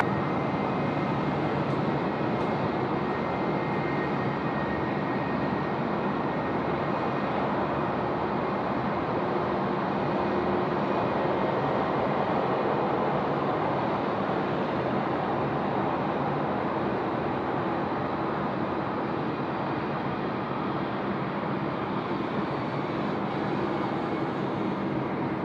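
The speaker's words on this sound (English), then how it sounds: "It's the domestic A330 off to Melbourne" A domestic Airbus A330 departs Sydney for Melbourne, its jet engines a loud, steady broadband roar that holds constant throughout without any voices.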